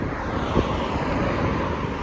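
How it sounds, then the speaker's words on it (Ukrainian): Steady wind buffets the microphone, a broad rushing roar with no other sounds standing out. "Що ж таке вітер?"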